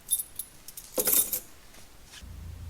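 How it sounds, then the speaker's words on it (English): A bunch of house keys jangles in a bright, metallic clatter that peaks in one brief flurry and then settles into faint rustling, with no talking. "House keys."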